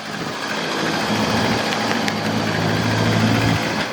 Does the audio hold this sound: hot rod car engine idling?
yes